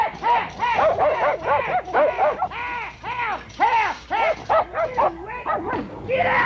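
Dogs bark and whimper in rapid, yelping bursts on a 1964 New York television broadcast, loud and close, one call after another with almost no pause across the whole stretch.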